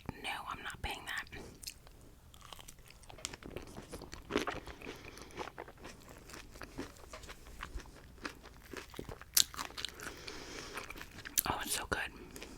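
Close, crunchy biting and wet chewing of a tropical ambrosia salad with coconut, with intermittent soft mouth sounds over a quiet, intimate whispering voice.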